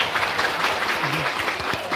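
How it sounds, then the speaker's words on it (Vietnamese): Modest applause from a small group at a gift-giving event for children, steady and fairly close, with a voice speaking briefly over it. "Vỗ tay."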